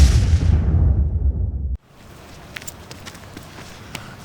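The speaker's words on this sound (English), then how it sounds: "Meanwhile, here's an explosion." A loud cartoonish explosion effect roars with deep rumble and hiss for nearly two seconds, then cuts off abruptly into quiet scattered rustling and small clicks.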